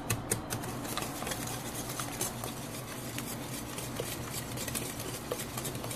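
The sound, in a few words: beating eggs and sugar batter for guava cake by hand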